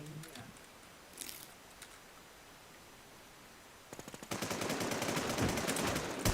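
Rapid automatic gunfire from the online survival shooter Infestation bursts out in a dense, loud volley in the last seconds, after a quieter stretch with a few faint scattered shots.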